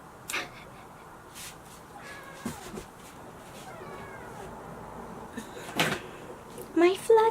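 Pet cat, a fluffy male, meowing several times up close in a quiet room, short cries that grow louder toward the end, with a person talking nearby.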